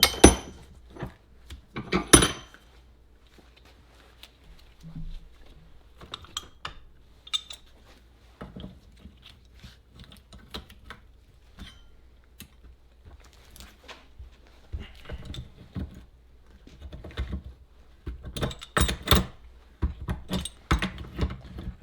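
A pipe wrench works a Dodge Dakota water pump part clamped in a vise, giving scattered metallic clanks, clinks and knocks in irregular bursts, close and fairly quiet, with quiet gaps between.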